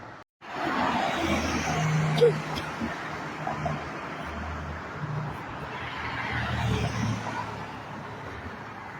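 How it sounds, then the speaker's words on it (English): A car drives down a side street at night near a convenience store, its steady road noise swelling and fading over several seconds while someone talks throughout. "And there's a car coming down the side of"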